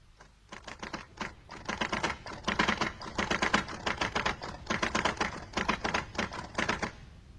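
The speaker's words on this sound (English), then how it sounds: "I couldn't possibly finish typing this engrossment tonight" A typewriter clatters in a steady run of rapid, close keystrokes, with brief pauses between bursts. The typing is heard alone, with no voices over it.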